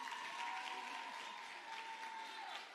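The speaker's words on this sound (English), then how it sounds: "let's give all of our scholars another round of applause." Steady crowd applause at a regional school science fair, a dense even wash of clapping heard from a distance, faint and continuous for the whole stretch.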